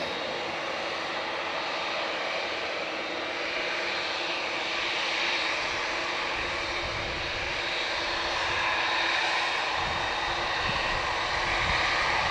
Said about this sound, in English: AA Dreamliner to Philadelphia.